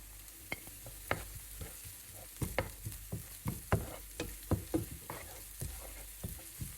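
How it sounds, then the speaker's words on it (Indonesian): Spring onions stir-fried in a pan; a soft sizzle sits under a run of quick, fairly quiet scrapes and taps from the stirring utensil, and there is no speech. "daun bawang ini kita tumis juga supaya aromanya lebih enak lagi"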